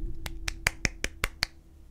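Animal Crossing characters applaud in a short, faint burst of about eight quick, evenly spaced claps with no voices.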